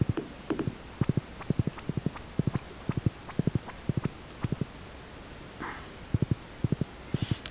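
Horse hooves clop in quick, regular pairs and triplets in Stardew Valley, sharp and close, with brief pauses between runs.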